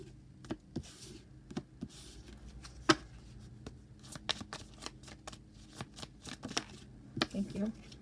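Tarot cards shuffle in repeated riffling bursts with sharp snaps, close and fairly quiet, over low background hum with a little speech-like murmur.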